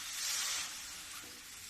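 A bowl of milk goes into a hot kadhai on a gas stove while sesame barfi is being made, bursting into a loud hissing sizzle that eases to a steadier, softer fizz.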